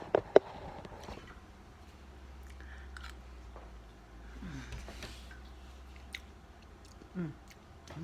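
Someone chews and tastes freshly made homemade cheese with a tangy, sour-cream-like culture. The chewing is soft, close and wet, with a couple of sharper smacks at the start and a faint low hum underneath.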